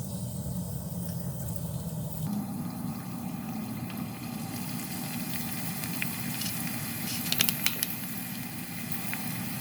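Scorched rice crust (nurungji) fries in a pan with oil, giving a continuous, even sizzle and watery hiss with a few sharper crackles near the end and no speech.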